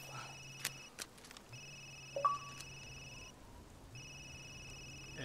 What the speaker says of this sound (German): Handy klingelt.